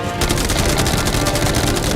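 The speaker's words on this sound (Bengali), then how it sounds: "মেশিন গান ছাড়াও আমাদের কাছে 100টা ক্যানন বল আছে" Continuous rapid machine gun fire in a naval battle video game, with volleys aimed at a yacht, loud and dense with steady rapid bursts throughout and no pauses.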